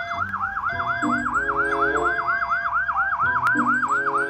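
A rapid electronic wailing siren like a toy police car, looping steadily and loud, alone with a faint mechanical hum beneath.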